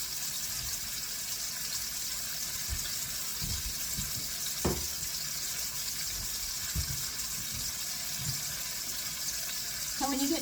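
Yam cooking water pouring into a veal stew pot, a continuous gushing, running-water hiss held steady for about ten seconds with a few faint knocks, a voice talking briefly over it.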